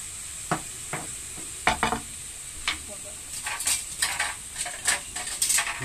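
Seasoned ground meat frying in a pan, a soft continuous sizzle under a string of scrapes and clatters as a utensil stirs it, growing busier toward the end.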